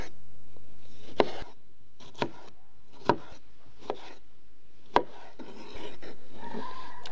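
A knife slices an onion into half rings on a board, with about five separate crisp cutting strokes spaced roughly a second apart, fairly close and alone.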